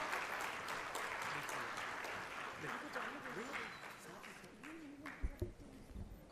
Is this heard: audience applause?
yes